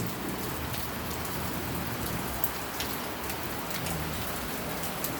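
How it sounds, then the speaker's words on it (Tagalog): Heavy rain pours down steadily, a dense, constant hiss of drops drumming on surfaces with no pauses. "Bigla na lang pong lumakas yung ulan."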